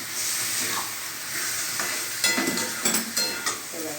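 Mutton and potato pieces being stir-fried together in a hot pan, a loud continuous sizzle broken by several sharp bursts of spatula scraping and tossing near the end.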